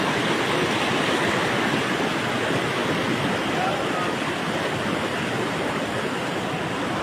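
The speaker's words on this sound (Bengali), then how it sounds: "এই দহকা জলের স্রোতা কীরকমভাবে যায়" Strong water current rushing over a broken embankment, a loud, dense, steady roar of turbulent flow heard close up, with no clear speech over it.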